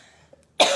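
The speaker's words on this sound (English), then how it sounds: "it will be no more coughing." A single abrupt cough, close and loud, bursting out after a short quiet pause with a faint click before it.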